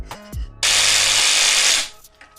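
A power tool whirs for just over a second as it cleans up the face of a bolt on a Honda Civic being worked on, loud and close, starting abruptly after a short sound and then winding down.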